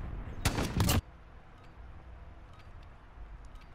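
A sniper rifle in the video game Modern Warfare fires one loud, sharp blast up close, followed by low ambient game noise and faint ticking.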